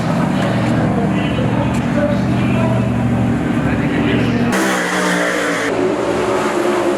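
Sprint race cars roar together in a heat race at Eldora Speedway, a loud sustained blend of engines accelerating and droning close by, with a sudden brighter burst of revving midway through.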